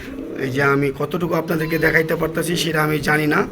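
A male pigeon imported from Romania coos in repeated low, rolling phrases close by, heard beneath someone talking steadily.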